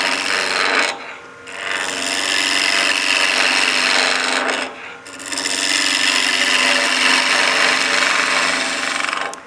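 A skew chisel shaves wood on a lathe during the turning of a German Christmas smoker, giving a loud, steady rasping hiss in long sustained cuts broken by two short pauses.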